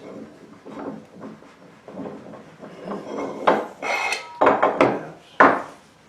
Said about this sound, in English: but they said to slide this tube, this metal piece through here